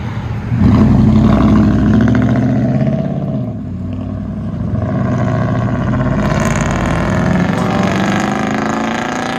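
A 2006 Toyota Tundra with a 4.7L V8 and straight-pipe true dual exhaust revs up, a loud, close, rumbling roar that swells, eases briefly, then builds again, with no speech.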